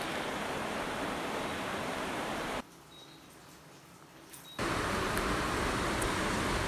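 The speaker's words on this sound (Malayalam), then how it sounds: "ഇവിടെ നല്ലപോലെ മഴ പെയ്യുന്നുണ്ട്" Steady, dense hiss of rain falling outdoors, broken by a short quieter stretch midway before the full wash resumes, constant and enveloping with no voices.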